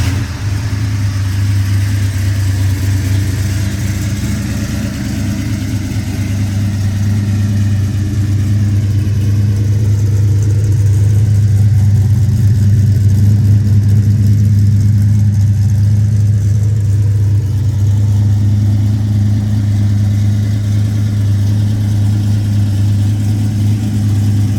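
A 1970 Chevrolet Chevelle SS396 with the L34 big-block V8 runs with a deep, loud, steady rumble, settling into a lumpy idle with slight swells in revs throughout.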